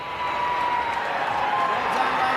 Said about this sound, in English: a huge round of applause for our official Nike Half Marathon female winners